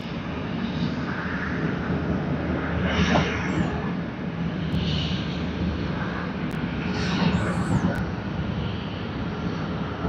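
Hong Kong Airlines airliner at Sydney Airport, a continuous jet engine rumble and whine at a distance, steady and moderately loud, with faint voices briefly in the background.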